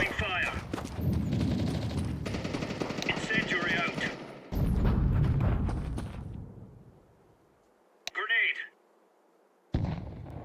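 Counter-Strike 2 firefight with grenade explosions and gunfire, several seconds of heavy rapid shooting and blasts, then a pause broken by isolated shots and a final burst.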